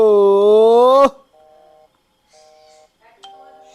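In a haunted school horror video game, a bell gives one loud, sustained, ringing tone lasting about a second, followed by quieter repeated electronic beeps and tones against silence.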